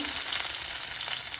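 A handful of finely chopped small shallots sizzling in hot oil in a pan for a banana flower stir-fry, a steady, bright crackle heard alone.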